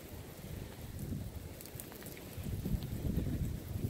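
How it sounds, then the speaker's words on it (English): Heavy rain and gusting wind on a mountain trail, a steady broadband wash that swells louder in the second half, with wind buffeting the microphone and no talk. "It's really raining. I mean, really nasty."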